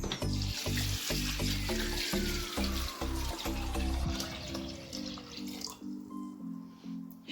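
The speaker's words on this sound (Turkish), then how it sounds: "Şimdi üzerine iki parmak geçene kadar yani şuradaki maksimum yasına gelene kadar ben üzerine soğuk su ekleyeceğim" Cold water pours steadily into a pot of chickpeas being boiled, a continuous rushing stream whose pitch rises as the pot fills, close and loud over faint background music.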